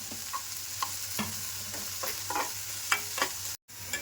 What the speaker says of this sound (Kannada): ಬ್ರೌನ್ ಕಲರ್ ಬರೋವರೆಗೂ ಇದನ್ನು ಚೆನ್ನಾಗಿ ತಿಗಿಸ್ಕೋಬೇಕು ಇದ್ರ ಜೊತೆನೇ ಈಗ ಹಸಿಮೆಣ್ಸಿನ್ಕಾಯಿ ತೊಗೊಂಡಿದ್ದೀನಿ ಹಾಕ್ತಾಯಿದ್ದೀನಿ